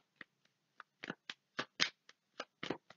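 A playing card being laid down over another card during a card reading, giving a series of soft, close dry taps and slides, about a dozen brief sounds at an irregular pace in a quiet room.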